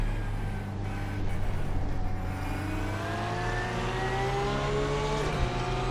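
A GT3 race car engine in the iRacing sim holds full throttle, a loud sustained drone with its pitch slowly climbing through the gears and a brief shift dip near the end.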